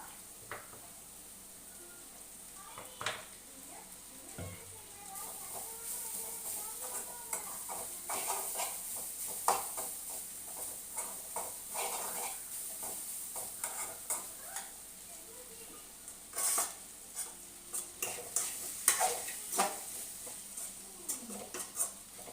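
Potatoes fry in coconut oil with a faint steady hiss, broken by scattered clinks and scrapes of a utensil against the pan.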